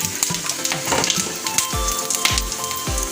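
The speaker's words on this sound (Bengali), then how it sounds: "ওই তেলের ওপরে আমি গোটা গরম মশলা, তেজপাতা, একটু হিং আর সাদা জিরে ফোড়ন দেব।" Whole garam masala, bay leaf, hing and cumin seeds dropped into hot oil after frying fritters, crackling and sizzling close by, with sharp spitting pops over a steady frying hiss.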